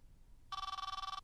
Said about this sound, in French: Sacré sonnerie de téléphone, hein.